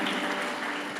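A church congregation clapping their hands during a Portuguese-language worship service, a thick continuous roar of many palms beating together, close and loud for the whole moment.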